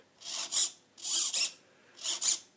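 Small servo on a Parkzone Albatros D.Va WWI warbird RC airplane swinging the rudder during a bench test, three quick paired whirring buzzes with short gaps, close up and alone.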